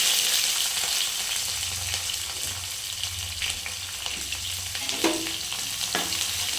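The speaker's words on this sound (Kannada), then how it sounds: "ನೀರುಳ್ಳಿ ಚೆನ್ನಾಗಿ ಫ್ರೈ ಮಾಡ್ಕೊಳ್ಳಿ." Onions frying in hot oil with cumin and curry leaves, a dense close sizzle that holds steady throughout, with a few scraping stirs and light clinks toward the end.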